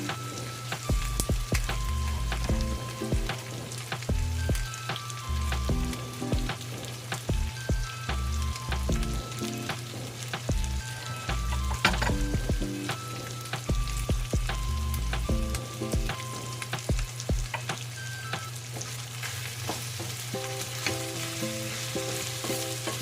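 Chopped onion sizzles and crackles in a hot frying pan for pork adobo, a dense steady frying hiss with occasional stirring scrapes and pops, close and continuous.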